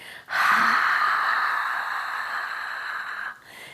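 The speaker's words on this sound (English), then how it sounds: "Exhale forcefully for 8." One long, forceful exhale in a breathing exercise, close and loud, a steady breathy rush lasting about three seconds before stopping abruptly.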